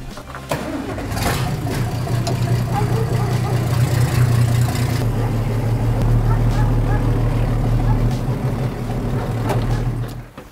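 Case International 956XL tractor with a six-cylinder diesel engine starts up and settles into a loud, steady, deep idle close by, with people talking near the machine as it runs before it cuts off at the end.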